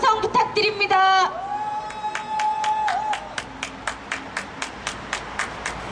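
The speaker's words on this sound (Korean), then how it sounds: "큰 박수, 함성 부탁드립니다" At a candlelight rally for striking workers, a crowd cheers and whoops over a musical tone early on, then settles into rhythmic, evenly spaced group clapping, fairly close and loud.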